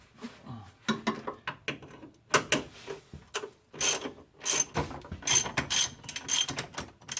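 Sharp metallic ratcheting clicks in quick bursts from a ratchet wrench loosening 12mm bolts on a Toyota Previa 2TZ-FE engine, close and irregular with brief pauses between runs.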